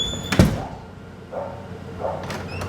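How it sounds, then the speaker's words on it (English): The front door of a house shuts with one short, sharp knock near the start, followed by a couple of soft, muffled thumps in an otherwise quiet outdoor yard. "You'll hear the door close."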